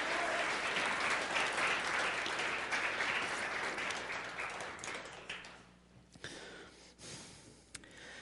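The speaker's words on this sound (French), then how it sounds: "on peut donner un bon main d'applaudissement, Michel." Audience applause at a Christian worship gathering, a broad steady clapping from the crowd that fills the first half and then thins and fades into scattered claps and quiet room noise.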